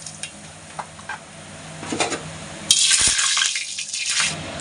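Cumin seeds and a pinch of asafoetida drop into hot mustard oil over medium heat, with light stirring clicks at first and then a sudden loud, steady sizzle that keeps crackling to the end; no one talks.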